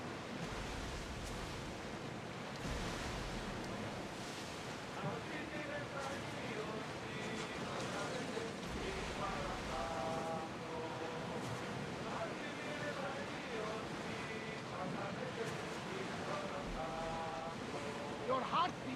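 Steady sea waves and wind wash around a sailing ship at sea in Assassin's Creed Odyssey, a continuous broad roar with creaking and faint tonal game sounds layered over it.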